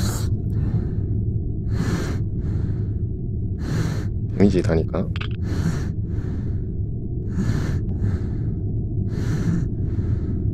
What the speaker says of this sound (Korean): 숨소리 굉장히 들리는데